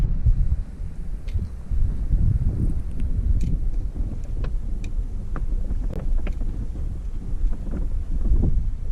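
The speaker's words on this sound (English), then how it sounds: "there's some strong gusts of wind coming through here" Strong wind gusts buffeting the microphone aboard a sailboat off the Alaska Peninsula, in low rumbling gusts, with occasional faint clicks and knocks in the background.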